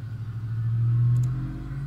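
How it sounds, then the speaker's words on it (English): A loud truck drives past outside a house, a steady low rumble that swells and lingers with no talk over it. "This is quite the loud truck outside my house."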